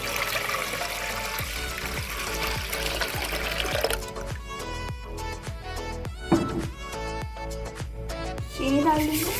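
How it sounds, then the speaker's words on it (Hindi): One litre of milk is poured into a cooking pot, making a steady liquid splash at first. Someone talks over it, and the pour gives way to clinks and stirring sounds. "सबसे पहले हमने एक डेगची ली है, इसमें हम 1 लीटर ऐड कर देंगे।"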